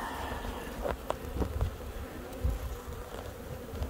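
Honey bees drone steadily around an opened beehive during requeening work, a dense continuous buzz close by with occasional louder passes and handling bumps.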